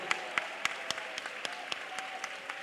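Church congregation clapping hands in praise during a sermon, a series of sharp, fairly evenly spaced claps heard at moderate distance in a quiet hall, gradually softening.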